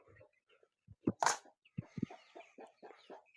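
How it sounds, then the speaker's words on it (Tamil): A chicken clucks in short bursts, close by, with a louder squawk early on and a quiet background. "திஸ் இஸ் த கோழி கைஸ்"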